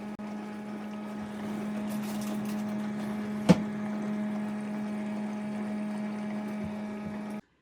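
A mini dishwasher runs with a steady low hum and continuous watery swishing, one sharp knock partway through, no voices.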